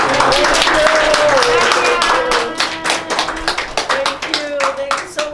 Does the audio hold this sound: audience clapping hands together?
yes